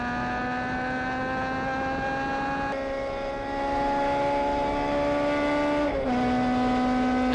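Race cars in a Hong Kong versus Macau touring car race at Sepang circuit, Malaysia, their engines holding a steady loud harmonic drone with a brief dip in pitch near the end, no voices.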